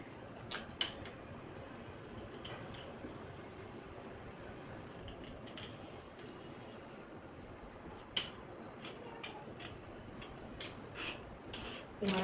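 Scissors cut blouse fabric along a marked curve, giving repeated crisp snips in irregular bursts over a faint steady background hiss, close and fairly quiet, with no talk.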